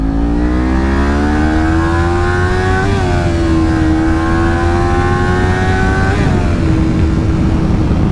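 A Kawasaki Ninja 400 sport motorcycle engine revs up hard and continuously, accelerating from 30 mph, its pitch climbing through two gear shifts, loud and close.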